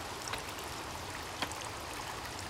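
Waterfall in the survival video game The Forest, a steady broadband rushing wash of falling water heard at a moderate distance, continuous throughout with a couple of faint splashy accents and no talking.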